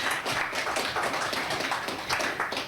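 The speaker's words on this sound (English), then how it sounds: "Let's just give one more round of applause for today's speaker." Applause for a guest speaker at a lunchtime talk on hearing aids, a steady, even patter of many hands clapping with no voices over it.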